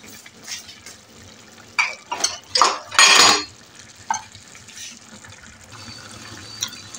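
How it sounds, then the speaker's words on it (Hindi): A large cup of water tipped into a pot of qeema, potatoes and green beans, with clattering pot and utensil knocks and a brief splashing pour, fairly close, followed by quieter stirring. "1 बड़ा कप पानी का मैं इसमें डालूँगी"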